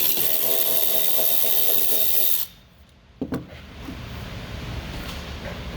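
A power driver spins out T20 Torx screws from a 2017–2022 Ford F250 tail lamp, a loud steady whirring that cuts off abruptly, followed by a brief clatter and then quieter handling noise.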